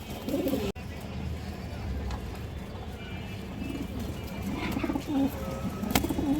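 Black high-flying pigeons coo low and soft through a steady noisy background, with a few brief louder sounds scattered across the stretch.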